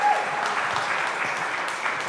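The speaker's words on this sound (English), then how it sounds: "Let's give him a round of applause." A crowd applauds steadily, a dense, continuous patter of many hands clapping at moderate volume throughout.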